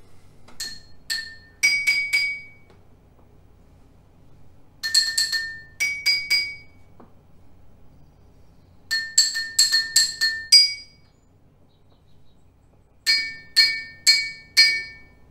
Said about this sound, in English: we're going to strike first and only once the glass that's filled. Then twice after, we're going to strike the empty glass.